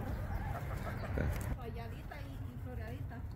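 A hen clucking as it is fed pomegranates, a few short bird calls near the start, with people talking in Spanish over a steady background hiss.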